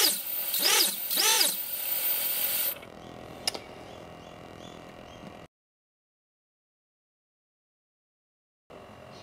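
BLHeli-driven drone motors with Oneshot enabled give two quick whining throttle blips, then a fainter hiss with a sharp click before the sound cuts to silence.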